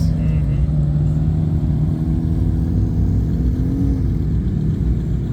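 A Corvette Z06 rolls past during a car show stop on Power Tour 2024, its exhaust a steady low rumble holding loud and close for several seconds, with a slight pitch rise near the end.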